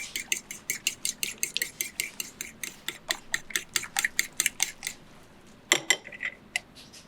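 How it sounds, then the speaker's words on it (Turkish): Fork whisking beaten eggs seasoned with salt and black pepper in a bowl, a brisk run of sharp, close clicking strokes in steady rhythm that slows and turns irregular near the end, with no talking. "Çatalla iyice karıştırın"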